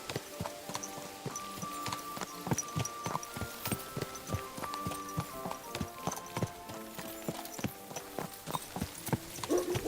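Horse hooves clip-clop in a brisk, steady rhythm in the video game Kingdom Come: Deliverance 2, close and clear, with no talking over them.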